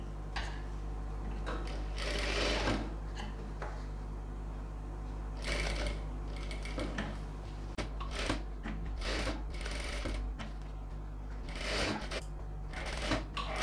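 A sewing machine runs long stitches around the edge, joining the lining to the main cloth of a silk pattu pavadai sattai. Intermittent whirring bursts of the mechanism rise over a steady low hum, with short pauses between runs.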